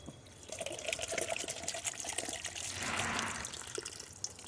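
Apple cider vinegar for pickled beets pours steadily into a measuring cup, a continuous trickling stream that swells into a fuller rushing fill near the end, heard close and without talk.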